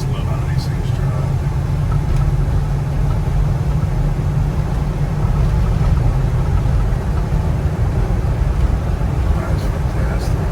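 A 1976 Cadillac Eldorado, unrestored with 17,000 original miles, rumbles along from inside the cabin with a deep, continuous low engine and road drone, and a muffled voice sits faintly beneath it.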